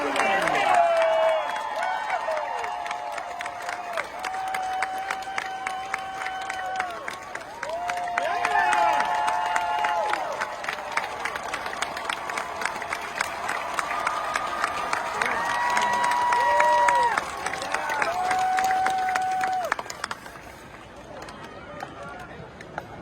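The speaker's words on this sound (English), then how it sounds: "let's give a round of applause for the one, the greatest Trojan of all time" A stadium crowd at a Troy University football halftime cheers and applauds loudly and steadily for about twenty seconds, while an amplified announcer's voice echoes over the roar.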